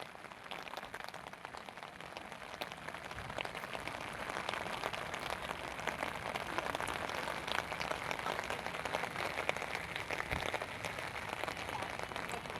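Continuous rain falls by the swollen Marikina River during flooding, a steady dense hiss of drops that runs without pause, moderately loud with no talking.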